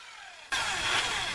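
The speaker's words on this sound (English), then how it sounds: "Bosch hammer drill, or any good hammer drill with a good diamond core bit, can get through a brick wall" A Bosch hammer drill fitted with a 2-inch diamond core bit bores through a brick wall. After a short quiet stretch it starts abruptly into a loud, steady grinding whine that keeps going without a break.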